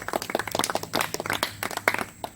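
A classroom of students gives a short burst of brisk, uneven hand clapping, close and lively, lasting just over two seconds.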